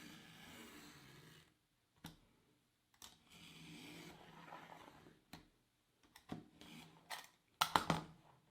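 A blade cutting a rib off a rubber supercharger belt along a straight edge gives soft, scraping strokes in bursts with short pauses, ending in a few sharper snips and taps close by, with no talking.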